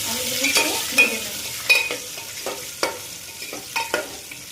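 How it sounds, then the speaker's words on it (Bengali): Potato pieces tossed with salt and turmeric fry in a pan for a mutton dish, a soft sizzle broken by several scraping stirs at irregular intervals, close by and fairly quiet. "আলুর মধ্যে নুন হলুদ দিয়ে দেবো। আলুগুলিকে ভেজে দেবো,"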